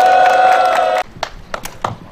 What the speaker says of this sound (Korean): 동지들의 힘찬 박수와 함성으로 시작하도록 하겠습니다